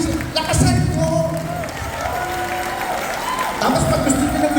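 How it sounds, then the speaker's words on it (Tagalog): A church congregation at a Yahweh El Shaddai chapter gathering in Montreal claps and cheers, with crowd applause that swells in bursts, mixed with voices and whoops throughout. "Yung palakpak na yan para sa Diyos."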